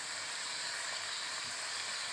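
Ghee sprinkled into a hot pot of banana-stem ghonto cooked with hilsa fish heads gives a steady, bright sizzle that holds evenly throughout, with no talking.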